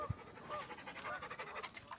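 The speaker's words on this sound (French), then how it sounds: "des chiens." Rapid, rhythmic panting of a dog close by, quick breaths repeating steadily, with a soft thump at the start.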